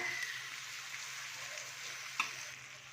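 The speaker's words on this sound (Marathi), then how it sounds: "टॅमॅटोही व्यवस्थित परतून घ्यायचं आहे आपल्याला" Chopped tomatoes and onions sauté in a pan as the base for a prawn tava fry, giving a soft, continuous sizzle with one brief clink partway through and no talking.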